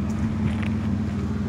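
Pontiac engine with a cut exhaust, resonator deleted and a ZZP power log header, holding a steady, loud, low droning rumble at close range throughout.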